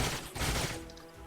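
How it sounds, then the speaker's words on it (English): A grenade exploding in the strategy game Age of Wonders: Planetfall, a loud, dense burst of blasts and crackling that fills the short moment before fading slightly. "Here comes the grenade."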